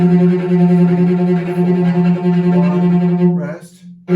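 A cello plays the opening of a piece, sustained bowed notes in a steady, close, resonant line that cuts off near the end.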